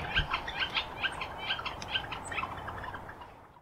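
Rapid repeated northern flicker wicka calls, a quick series of chirping notes, sound at a distance over a faint outdoor background.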